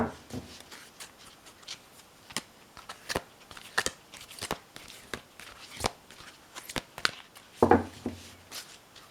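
Oracle cards being shuffled by hand make a quick series of crisp riffling and slapping bursts at an uneven rhythm, close and fairly quiet, with no speech.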